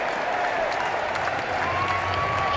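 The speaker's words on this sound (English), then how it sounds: "Huge cheer goes up" A large cricket crowd at a Yorkshire vs Lancashire T20 Blast match erupts in loud, sustained cheering and applause for bowler James Anderson, a dense wall of noise throughout.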